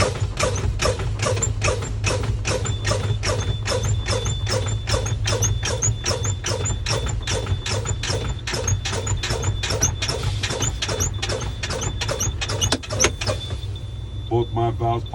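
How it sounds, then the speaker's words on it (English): Truck air brakes are fanned repeatedly during a CDL brake test, giving a long run of evenly spaced sharp hissing bursts over a low idling engine rumble, ending with a louder pop as the spring brake valves release. "I'm going to fan my service brake until both my valves pop out."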